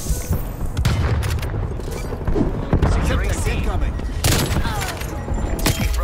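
Gunfire in Black Ops Cold War: bursts of shots and booming impacts crack through a dense, noisy battle mix, loud and close.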